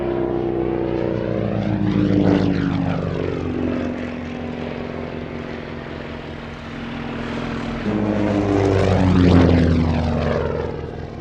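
A propeller training aircraft at an evening airshow makes two loud passes, its engine drone swelling with sweeping Doppler shifts around each flyby, with no voices.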